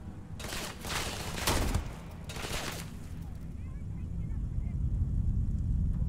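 Weapon fire in the video game Starfield, a few loud, close bursts of shots in the opening seconds, then a low rumbling game ambience that carries on to the end.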